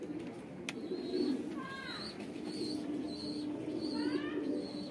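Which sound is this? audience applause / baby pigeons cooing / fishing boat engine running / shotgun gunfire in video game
baby pigeons cooing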